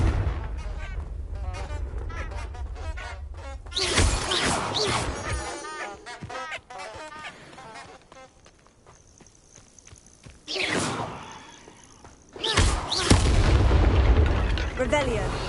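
Booming Confringo spell blasts in the Hogwarts Legacy video game land as loud broadband bursts, one around the middle and a heavier pair near the end, with footstep-like game sounds and a voice in between.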